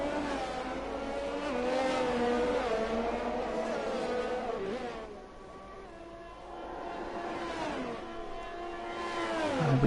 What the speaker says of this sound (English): T. Smith with the DRS round the outside. That is an easy overtake to P3